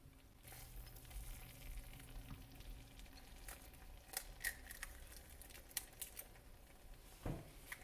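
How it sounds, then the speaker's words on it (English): Grits frying in a pan give a quiet, steady crackling sizzle with scattered sharp pops and a faint clink of utensils, heard fairly close. "I'm just going to let them, going to fry the grits a little bit"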